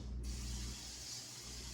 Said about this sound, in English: So this is called the kitchen spritzer.